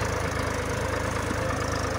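A tractor engine runs steadily in a field during sugarcane sowing, a loud, continuous low throb with a fast regular pulse and no pauses.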